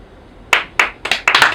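A small audience gives a few scattered claps, sharp separate hits that build quickly into a short, ragged burst of applause close by.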